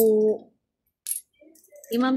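Coins handled while going through a bag, a brief metallic clink in a pause between bursts of nearby talk.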